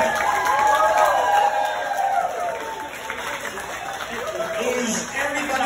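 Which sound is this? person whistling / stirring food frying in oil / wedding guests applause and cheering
wedding guests applause and cheering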